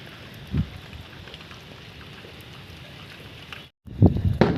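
Soft, steady rain hiss with occasional low thumps and gusty bursts, briefly cutting out before returning louder.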